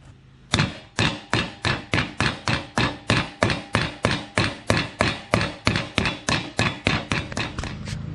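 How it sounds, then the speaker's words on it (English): Rapid, evenly spaced hammer taps seating a new bearing in a Can-Am DS90X transmission, around twenty sharp metallic strikes in a steady rhythm, loud and close, with no voices. "I'll give it a couple taps with a hammer."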